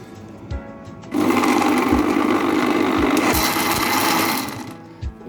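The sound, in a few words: blender blending falsa juice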